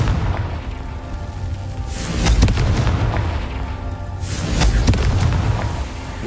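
Two heavy, booming fire-spell explosions from Confringo in the video game Hogwarts Legacy, each a loud deep blast with a rumbling tail, a couple of seconds apart.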